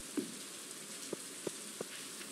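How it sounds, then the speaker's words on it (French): Rain falls steadily in the farming video game Stardew Valley, a soft continuous hiss of patter with a few faint, isolated drip-like taps standing out. "Il pleut."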